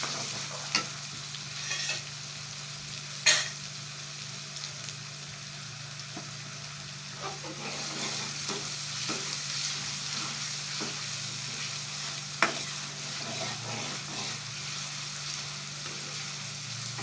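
Finely ground onion paste fries for beef karahi, a steady low sizzle with occasional stirring clicks and scrapes against the pan, moderately quiet and close, no voices.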